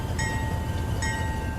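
CSX locomotive in a Roblox railway game, heard as a steady low rumble with a sustained tone and two short high horn-like blasts near the start and middle, with no voices.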